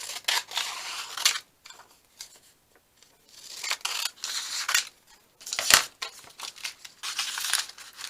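Paper being cut for handmade junk-journal pocket envelopes, with bursts of crisp snipping and crunching strokes separated by brief pauses, close and fairly loud with no talking.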